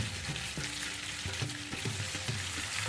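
Red chili powder, cumin powder and ginger paste sizzle steadily in hot oil for a Bengali fish-head and cabbage dish, a close, continuous hiss with a few soft stirring knocks and scrapes, and no voices.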